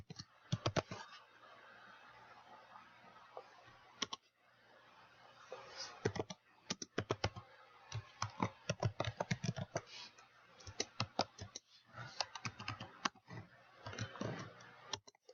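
Code is typed on a computer keyboard in quick irregular bursts of sharp key clicks, with short pauses between runs of keystrokes, close and fairly quiet.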